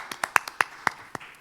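A few people clapping sparsely after a workshop session, about seven separate claps spread unevenly over a second and a half, fairly close and not very loud, with no one talking.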